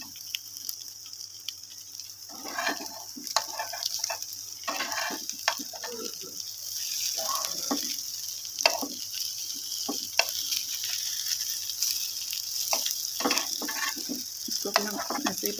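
Potato, egg and onion omelette frying in a pan, a steady soft sizzle with scattered crackles and occasional scraping of the turner as it is flipped, close and continuous.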